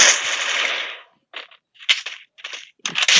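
Gunfire in the mobile battle game Free Fire: a sustained burst of shots, then a pause and several short, loud clusters of rapid shots close by, with no talking.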